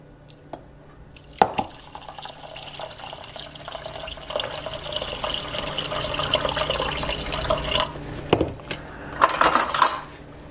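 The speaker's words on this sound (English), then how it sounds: "So I'm going to just put some water in here." Water running from a kitchen tap into a metal pot of rice, a steady splashing stream that swells over several seconds, with clinks of the pot at the start and end and no voices.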